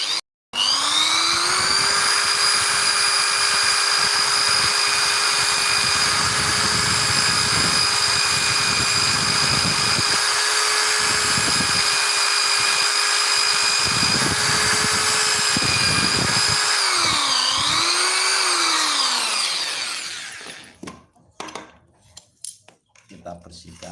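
A power tool whirs steadily, close and loud, while sanding a bamboo flute with sandpaper, holding a constant whine, briefly dipping in pitch near the end, then spinning down and stopping.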